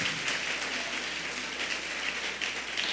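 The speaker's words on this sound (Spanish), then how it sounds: "denles un aplauso a esos muchachos" A church audience at a Spanish-language family talk applauds a group of teenagers, a soft, diffuse, continuous wash of clapping that sounds somewhat distant and holds evenly for a few seconds.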